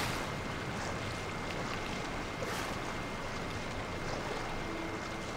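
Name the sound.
waterfall in the video game Genshin Impact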